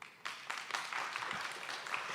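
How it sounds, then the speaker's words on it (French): Audience at the Mêlée Numérique 2023 tech event applauding a presenter walking onto the stage; the clapping starts after a brief pause and settles into a moderate, even patter. "on peut l'applaudir"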